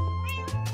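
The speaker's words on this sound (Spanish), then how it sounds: "¿Este gato es mío? ¿Por qué se va?" A cat meowing in the Minecraft video game, a few short, close meows over a steady low background hum, with no speech.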